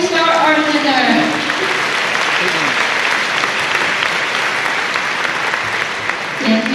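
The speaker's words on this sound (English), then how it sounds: "let's give them the biggest round of applause once again before we start our dinner" Dinner guests at a formal European Day banquet give loud, dense applause, with a voice speaking over the clapping at the start before it continues steadily.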